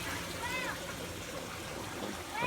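Water from a pump trickling steadily back into an aquaponics fish tank through a T-piece and ball valve, a soft continuous stream with a few faint chirps in the background.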